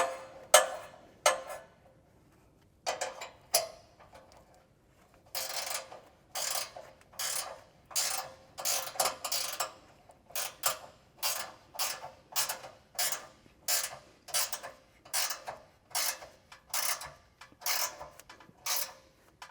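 A ratchet wrench tightens bolts on a GGB trail muffler for a Polaris KRX 1000, first in scattered clicks and then in a long, steady run of evenly spaced ratcheting bursts, close and clear with no talking.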